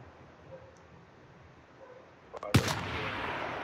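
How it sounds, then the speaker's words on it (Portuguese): A few sharp gunshots ring out near a military base, coming after a quiet stretch and leaving a noisy wash behind them. "Não tô vendo de onde tá vindo o tiro."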